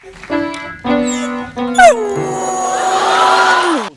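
A beagle howls in long drawn-out, wavering tones at close range, the pitch sliding up and down in a sustained cry, with a few piano-like tones mixed in at the start.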